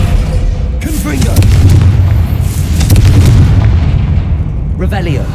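A Confringo fire spell bursts in Hogwarts Legacy, a loud booming explosion with a deep rumbling tail amid game sound effects, with a voice speaking over it.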